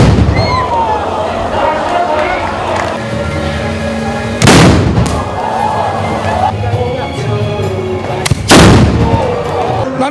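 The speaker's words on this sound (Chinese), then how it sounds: "安排来宾轮流点香三声起马炮，震天炮声响后" Two deep, booming ceremonial cannon blasts ring out a few seconds apart at the start of the Fuxing Temple procession in Xiluo, Yunlin, Taiwan. They rise over a constant crowd murmur and outdoor bustle.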